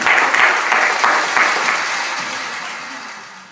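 Audience applause at a church skit performance, a dense burst of clapping that starts loud and steady, then slowly thins and fades out over a few seconds with no talking.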